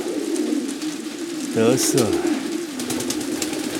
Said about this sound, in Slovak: holub.